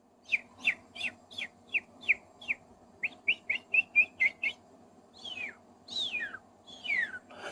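A person whistles a run of short, bright chirping notes in quick succession, then several longer sliding whistles, imitating birdsong over a faint low hum.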